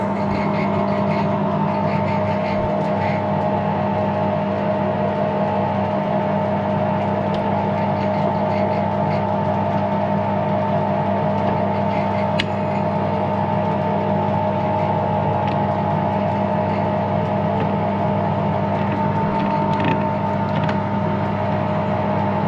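An Edgwick lathe under repair runs with a steady, droning mechanical hum that holds level and unbroken throughout, close by and fairly loud, with no talking.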